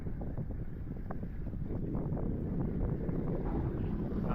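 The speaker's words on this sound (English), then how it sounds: "November in Wisconsin is generally a pretty windy month" Wind buffets an outdoor microphone at a radio-controlled model airfield on a gusty November day in Wisconsin, a steady low rumbling roar that swells slightly toward the end, with no other clear sounds.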